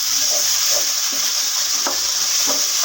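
Chicken tikka masala frying in a pan, a steady broadband sizzle with soft scraping stirs of a spoon at intervals, close and continuous with no voices.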